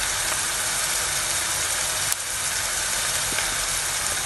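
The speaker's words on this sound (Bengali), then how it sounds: "সবজিগুলো ঢেলে দিলাম।" Vegetables poured over reddened onion and garlic in a hot pan for ratatouille, giving a steady, loud broadband sizzle and hiss throughout with a brief sharp click partway.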